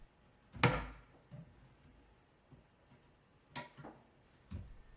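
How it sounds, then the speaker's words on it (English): Wooden cabinet doors with adjustable-resistance hinges close, one firm thunk followed by several softer knocks and taps spread over a few seconds in a quiet room. "They have a little switch that lets you customize how much resistance the door will have when closing."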